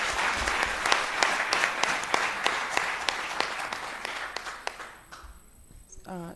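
Audience applause at a public dialogue, a steady burst of many hands clapping close and loud, thinning out toward the end.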